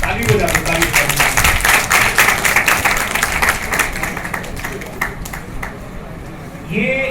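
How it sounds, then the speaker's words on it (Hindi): An audience at an entrepreneurship club meeting at ITM GIDA, Gorakhpur claps loudly and steadily in a dense, close patter that tapers off toward the end. "ताली बजा दो, ताली बजा दो."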